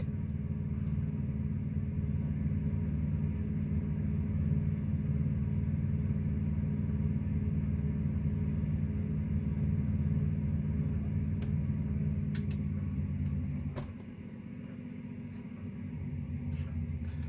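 A truck engine idles with a steady low rumble close by, then drops off abruptly near the end before a quieter hum returns, with a few light clicks.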